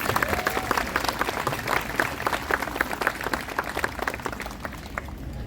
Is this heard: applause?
yes